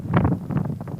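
Wind in the Namibian desert, gusting in several rumbling buffets against the microphone over about a second, close and fairly loud, with no voices.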